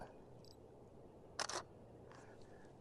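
A Canon full-frame camera fires its shutter once outdoors during landscape shooting, a crisp double mechanical clack close to the microphone over a quiet hiss of ambient background.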